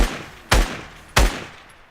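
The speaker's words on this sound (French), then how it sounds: "Là il y a encore un mec. On va lui mettre quelques balles." Two sharp sniper rifle shots in the video game Fortnite, about half a second apart, each a loud crack with a booming low tail that fades before the next.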